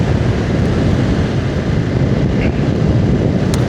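A 2025 Honda Rebel 500 ABS motorcycle cruising along a Florida road, with a loud, steady roar of wind buffeting the microphone over a low engine drone, continuous and unbroken throughout.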